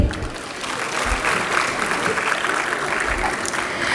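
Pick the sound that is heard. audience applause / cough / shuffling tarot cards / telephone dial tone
audience applause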